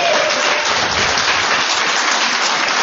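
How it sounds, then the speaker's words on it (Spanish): A church congregation applauding, dense continuous clapping from many people filling the room at a steady loud level from start to finish. "¡Dale un aplauso al Señor!"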